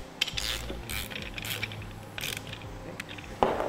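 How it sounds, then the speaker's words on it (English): Bolts on Air Lift LoadLifter 5000 air helper spring brackets being tightened with a ratchet and 9/16 socket, giving quick clicking pawl bursts in several short runs, close up with no talk. "These two bolts will tighten down for 9/16 socket."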